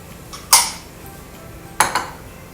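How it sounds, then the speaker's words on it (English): Sliced basil, onion and white mushrooms go into a clay pot of Thai hot-sour seafood soup, giving two short clattering clinks about a second apart, close and moderately loud in an otherwise quiet kitchen. "I'm just gonna add these into the clay pot behind me"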